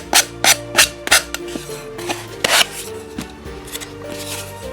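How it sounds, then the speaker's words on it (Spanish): Sandpaper rubs along the edges of a wooden log in a series of short, close rasping strokes, about a dozen in quick rhythm, fading into a softer scrape at the end. "Entonces, lijo bien todos los bordes."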